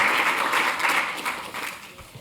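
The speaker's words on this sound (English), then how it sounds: "maybe we could give him a round of applause" Brief burst of audience applause at a memorial event in the British Museum, many hands clapping together in a dense patter that gradually thins out.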